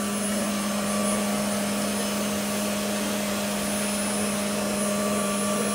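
A Hart vacuum cleaner runs steadily right after being switched on, a loud, constant motor whine with a strong droning hum that holds without change from start to finish.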